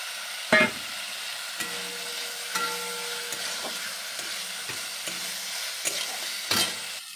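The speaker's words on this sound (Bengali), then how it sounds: "মশলাটা কষানো হচ্ছে।" Spice paste with cumin powder is stir-fried in a pan for bori chatu, giving a soft, steady sizzle punctuated by spatula scrapes and a couple of sharper knocks, with no talking.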